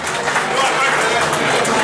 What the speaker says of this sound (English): Please give me a hand of applause.